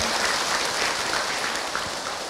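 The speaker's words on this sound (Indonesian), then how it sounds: "Tepuk tangan buat Ahilman ibu ya" Audience applause at an Islamic talk show taping, a steady crackling patter of many hands clapping together that holds for a couple of seconds and thins slightly toward the end.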